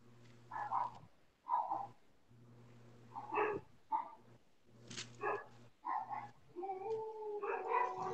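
Several dogs howl and bark in bursts with short pauses between them, fairly close and loud, over a steady low hum, with a long rising howl near the end.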